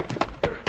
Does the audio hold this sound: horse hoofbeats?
yes